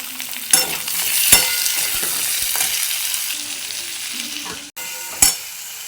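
Chopped tomato and green chili frying in a pan for a vegetarian potato and soybean curry: steady hiss and sizzle with a few sharp clinks and scrapes of a spatula stirring against the pan, close and with no voices.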